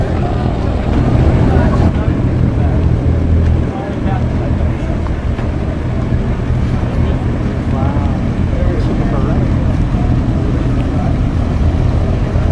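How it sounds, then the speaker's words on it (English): An antique launch of unknown origin motors across Lake Muskoka at a classic boat show. Its steady, rumbling engine runs under wind buffeting on the microphone, with a voice talking over it. "Beautiful launch, origin unknown."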